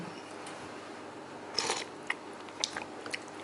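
Someone tastes a spoonful of ready-to-eat instant sweet green bean soup. Quiet room tone is broken by a few sharp spoon clicks and close mouth and chewing sounds, with no talk.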